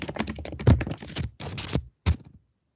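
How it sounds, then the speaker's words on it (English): Rapid bursts of computer keyboard typing with dense clustered keystrokes, pausing briefly between runs, close and fairly loud with no talking. "You type very quickly."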